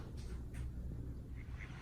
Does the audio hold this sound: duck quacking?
yes